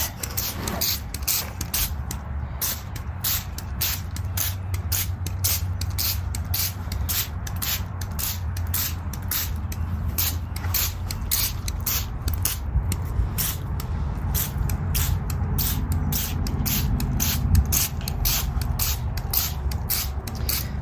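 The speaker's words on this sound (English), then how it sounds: "I'm spraying this over a container of mint" Repeated rapid spritzes from a hand-pumped spray bottle misting leaves over a container of mint, fired in quick bursts over a steady low background hum.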